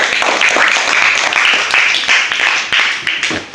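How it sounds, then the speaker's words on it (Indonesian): A school class applauds a classmate during a guidance counseling lesson, loud, dense clapping that continues throughout with a few sharper individual claps. "Untuk itu, sekali lagi berikan tepuk tangan untuk teman."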